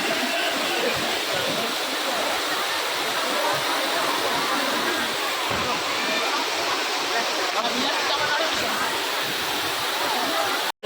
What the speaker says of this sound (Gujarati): આવો વોટરફોલ છે.